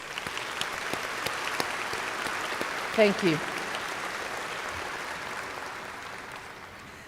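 A commencement audience at Metropolitan Community College in Kansas City gives a steady round of applause that holds for the whole stretch, with a short spoken thanks breaking in near the middle.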